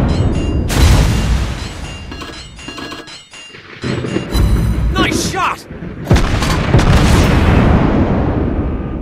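A tank gun firing in the Buffalo tank video game: heavy booming blasts with crackling debris and sharp bursts, loud and close, with several separate hits and a rumbling tail.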